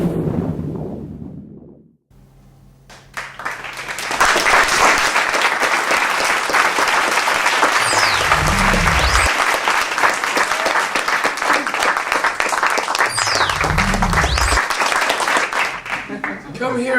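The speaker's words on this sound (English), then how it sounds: "Come here and take another round of applause." A live audience breaks into loud, sustained clapping after a short quiet stretch, holding steady for over ten seconds, with a couple of low whoops or shouts rising out of the crowd.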